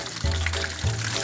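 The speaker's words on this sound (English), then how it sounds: "Now we know it's full because it's coming out in all different directions." Water filling an RV potable water tank until it overflows, heard as a brief, close pouring and gushing sound with two surges.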